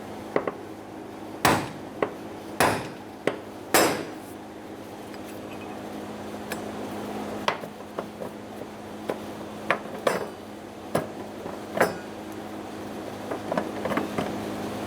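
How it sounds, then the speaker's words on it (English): A brass punch is struck with a hammer to knock the fuel tank ring lock loose on a 2012-2020 Chevrolet Sonic, producing sharp metallic taps at an irregular pace, louder early on and lighter toward the end. "We're going to use a brass punch as to not create sparks to remove the fuel tank ring."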